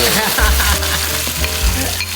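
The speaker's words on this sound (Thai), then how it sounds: "คุณยากจะผัดพริกแห้งค่ะหอม" Dried chilies stir-fry in a hot pan for a Thai basil and chicken-egg dish, a loud, close, continuous sizzle with scraping stirs and clatter throughout, no talking.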